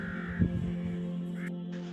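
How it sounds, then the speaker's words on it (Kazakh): A rare white crow chick caws nearby in short harsh calls, a couple of raspy cries over steady background hum, with no talk. "қарғаның ақ балапаны. Табиғатта өте сирек кездесетін құс."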